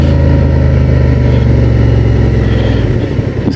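A Honda Transalp 750 motorcycle engine runs loud and close, a steady low rumble that holds its pitch and eases slightly near the end, with no talking.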